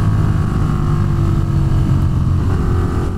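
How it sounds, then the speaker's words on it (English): Vehicle exhaust recorded on a DJI Osmo Action 5 Pro action camera, a steady loud engine drone with a continuous low rumble held for about three seconds, no talk over it. "you want to be able to hear an exhaust like this"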